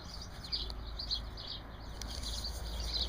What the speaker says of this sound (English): I can hear all the hedge sparrows running about me